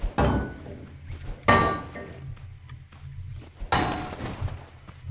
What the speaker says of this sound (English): Get our sledgehammer, maybe? Whack it over.